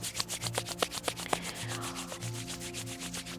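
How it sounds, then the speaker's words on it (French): Hands rub briskly together in a quiet yoga session, a soft rhythmic friction swishing about eight times per second, close and faint with no talking. "frottez les mains"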